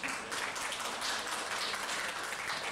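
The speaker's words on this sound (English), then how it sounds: "give them a round of applause" Audience applause at a welcome event, cheering a fan and family, with steady clapping from many hands filling the room throughout, loud and continuous.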